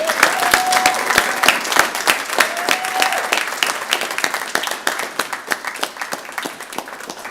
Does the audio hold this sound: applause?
yes